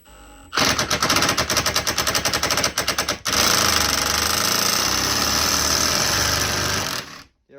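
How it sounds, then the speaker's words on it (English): Cordless 18-volt impact gun running in reverse against a stripped brass valve seat in a Symmons shower valve: a loud, rapid hammering rattle in short bursts, then one sustained, steady impacting run for several seconds before stopping. "My 18-volt impact gun. I'm going to put it on reverse, lean into it."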